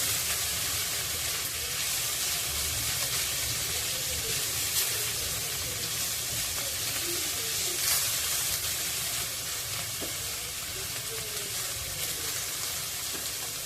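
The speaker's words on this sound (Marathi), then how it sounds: "हे आपल्याला पारदर्शक होईपर्यंत कांदा परतायचा आहे त्यामुळे मी लसूण कांदा आणि मिरची एकत्रच टाकलेले आहेत" Onion, garlic and chili sautéing together in a pan, a steady loud sizzle with a continuous frying hiss and occasional soft pops, with no talk.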